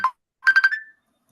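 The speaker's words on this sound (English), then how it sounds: "Oh, someone's ringing." A phone ringtone goes off: one short electronic chirp, then a quick run of three bright pulsing tones that settle into a held note, clear and moderately close, with no talking over it.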